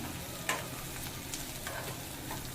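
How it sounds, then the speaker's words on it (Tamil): Onions with green chillies sautéing in a pan, a continuous soft sizzle with brief scraping stirs of a utensil, close and steady, no voices. "வெங்காயம் ஓரளவு வதங்கிட்டு இருக்கும்போது அதில் நீளமாக கட் பண்ணால் ஒரு அஞ்சு பச்சை மிளகாய் சேர்த்துக்கோங்க"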